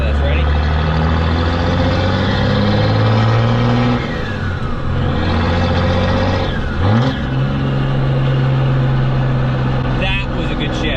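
Truck engine with an NV5600 manual transmission revving up, dropping through a shift, then pulling again at steady loud drone, with an engine note sweeping low pitch changes and a brief clatter near the end.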